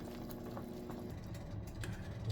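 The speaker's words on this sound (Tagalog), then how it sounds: "Kumukulo-kulo na. Palambutin lang natin yan." Pork caldereta stew bubbles and simmers quietly in a pot, soft irregular blips and pops over a low steady hiss.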